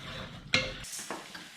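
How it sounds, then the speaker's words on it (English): A spoon or spatula stirs crab through a warm cream sauce in a pan, giving a brief clatter against the metal and then soft, wet scraping and gentle sizzling, close up with no voices. "Let's stir that through a little bit."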